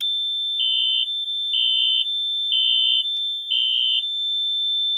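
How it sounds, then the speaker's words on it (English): A Firelite MS4424B fire alarm demo panel sounds a loud, close electronic tone in steady pulses, four regular beeps about a second apart over a constant high whine. "Okay, that is very loud."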